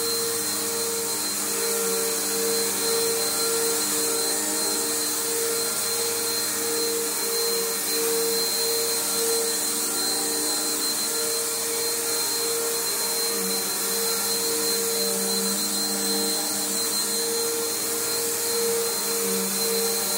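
A bagged Bissell Powerforce upright vacuum cleaner runs steadily and loudly on carpet throughout, a constant motor whine and airflow roar with no pauses.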